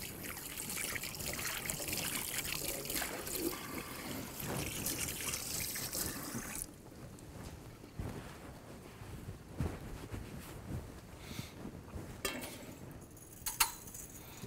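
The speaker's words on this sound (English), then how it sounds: "Now I have to wash my hands." Hands washed under running tap water in a culinary kitchen: a continuous close splashing trickle that softens partway through, with a few small knocks near the end.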